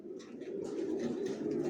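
Racing pigeons kept in a loft coo together in a close, continuous low warble, several birds overlapping with soft breathy rises and no talking.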